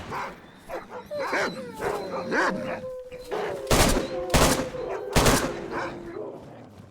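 Dog barking repeatedly in a DayZ roleplay game, with several loud, sharp gunshots cracking out near the end and people talking over the scene.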